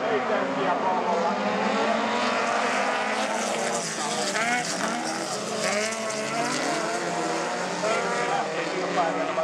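Rallycross race cars at a Päijät-Häme meet in Finland run in a steady, dense engine roar with shifting pitches as several cars drive together, loud and continuous, with a commentator's voice mixed in.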